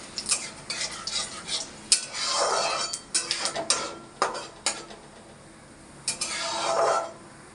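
Bay leaves and dried red chillies fry in a small amount of oil with cinnamon, cloves and cardamom, giving a soft sizzle broken by clinking stirring strokes of a utensil against the pan.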